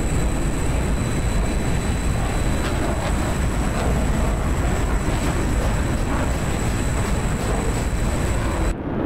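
A MiG-21 jet fighter in a flight simulator set in the 1965 Vietnam War, heard as a loud, steady, broadband engine roar that holds constant before cutting off abruptly at the end.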